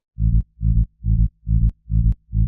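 Six deep, booming synth bass notes pulse in a steady rhythm, each a low rumbling swell with short gaps between, no voices.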